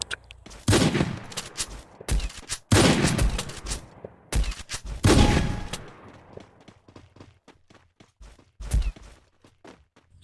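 Gunshots in the Free Fire video game, loud sharp bursts and fusillades in clusters near the start and middle, tapering into scattered single shots, with little talk.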